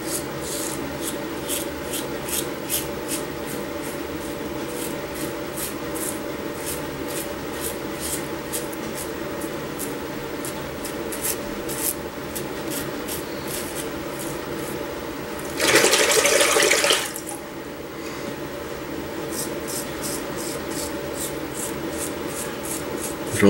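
Short, rhythmic scraping strokes of a Merkur Futur safety razor cutting three-day stubble repeat steadily and close, broken once by a brief burst of running rinse water before the strokes resume.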